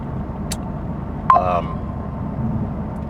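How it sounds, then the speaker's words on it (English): Steady low road and tire rumble fills the cabin of a Honda Civic Type R FL5 while driving, with a brief electronic beep near the middle and no speech. "I'm surprised how much noise I'm hearing coming through the cabin"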